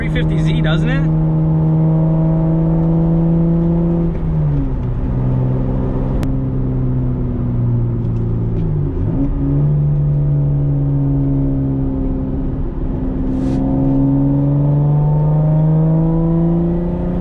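A manual-swapped Toyota Supra engine drones while the car is driving, rising and falling through several gear pulls with a steady, smooth whine underneath.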